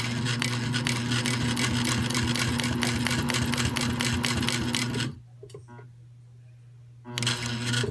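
A Sailrite 111 sewing machine topstitching, a loud, steady mechanical hum with rapid needle clatter that stops briefly, leaving a quieter motor tone, then starts up again.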